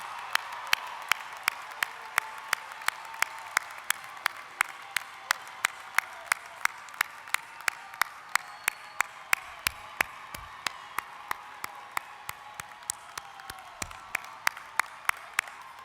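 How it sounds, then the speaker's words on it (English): Graduates and guests at a college commencement ceremony clap in a slow, even rhythm, sharp single beats repeating steadily over a faint background murmur in a large hall. "Your applause speaks for itself."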